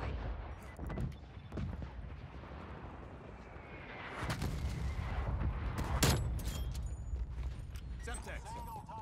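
Artillery fire in the video game Black Ops Cold War: several heavy, booming blasts land at intervals amid a constant rumble of battle noise.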